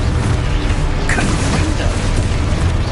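Confringo spell explosions and other combat spells in Hogwarts Legacy, a loud, dense wash of blasts and crackling bursts with a sharper burst near the middle, continuous over the whole span.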